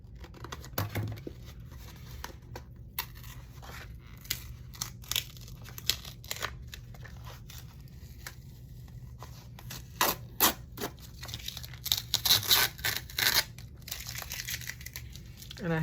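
Scissors snip and crinkle through repurposed packaging material while a mini pouch with flaps is made, a string of close, crisp crunching cuts that grow busier toward the end, with faint background sounds between.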